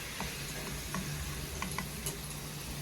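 Potatoes for French fries frying in oil over medium heat, a steady broadband sizzle with a low hum and a few faint clinks of a utensil, no talking.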